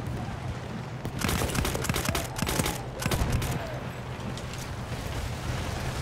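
Dense gunfire in the World War I shooter Battlefield 1 on the Amiens map, with rapid rattling bursts of shots, some sharp and close, over a constant low battlefield rumble. The firing is loudest in the middle and lasts throughout.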